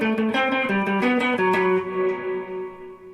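Electric guitar notes run through a TC Electronic Nova Reverb pedal, a quick run of plucked notes ending in a held tone that fades as the reverb tail swells and decays alone.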